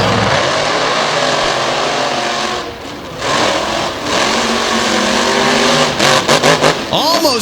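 Race cars at Selinsgrove Speedway roar past in a loud, continuous engine drone with rising and falling revs and a burst of passing cars near the end, under a commentator's talk.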